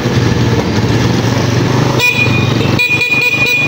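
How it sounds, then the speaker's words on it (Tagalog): A loud vehicle horn blares close by, with one steady blast and then several short toots over a rumbling engine. "Loud horn."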